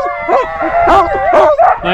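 Husky sled dogs on a sledding tour in Levi, Finland bark, yip and howl close by, overlapping in a continuous excited chorus.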